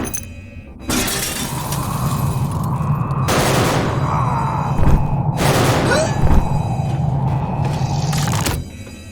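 Gunfire sound effect in an audio drama: a sustained burst of loud, crackling shots with shattering, glassy debris, two heavier blasts standing out midway before the barrage cuts off.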